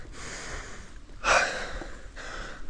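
A cyclist pedalling up a steep climb breathes hard in a few sharp, close gasps and puffs, one heavier exhale standing out in the middle.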